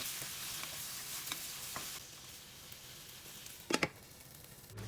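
Tomatoes and softened onions sauté in a pan with a quiet, steady sizzle, broken by soft spatula strokes and a louder clatter of stirring near the end.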